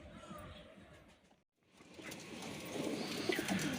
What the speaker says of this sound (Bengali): আপনাদেরকে আমি আমার এই কবুতরগুলো দেখাবো, মানে বাইরের ধাপটিতে যে কবুতরগুলো আছে